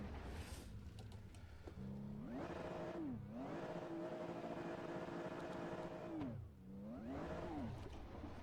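A Mercedes-AMG race car engine in the Assetto Corsa racing simulator drones and revs, its pitch climbing and dipping through several gear changes, loud and continuous with no talking over it.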